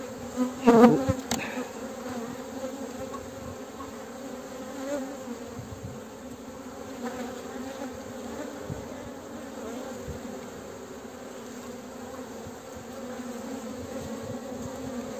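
Honey bees buzzing at a hive being smoked in spring: a dense, steady swarm hum, near and continuous, with a brief louder clatter near the start.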